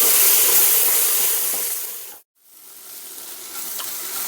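Ginger, green chili and curry leaves frying in a pan for a chicken pepper dry fry give off a steady, close sizzle and hiss that briefly drops out near the middle, then builds back up.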